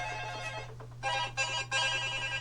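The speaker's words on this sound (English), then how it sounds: "I thought I shut off my alarm." A phone alarm rings during a classroom maths lesson: a bright, repeating electronic tone sounds in short bursts over a steady low hum, near and fairly loud, with no talking.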